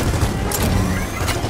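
Gunfire in the Gears of War 4 video game as players shoot at a chest, a dense rapid burst of loud booming shots and crashes filling the whole moment.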